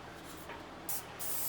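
Short hissing bursts of spray paint laid down as a light first coat on refurbished furniture, two quick puffs close to the nozzle with a longer steady spray trailing at the end.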